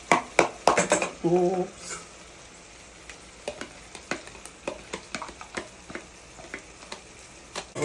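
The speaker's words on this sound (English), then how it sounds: "I'm gonna drop my saltfish in." Saltfish drops into a pot of cooked vegetables with okra and spinach, giving a short loud splash and sizzle, then a quieter simmer with scattered clinks of utensils against the pot while a voice speaks briefly.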